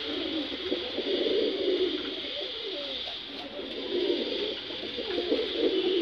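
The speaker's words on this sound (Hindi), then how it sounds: "ये देखो दोस्तों ये सब मलवई कबूतर हैं।" Soft, continuous cooing of many Malvai pigeons close by, low warbling murmurs layered over a steady background hiss.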